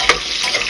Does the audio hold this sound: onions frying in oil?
yes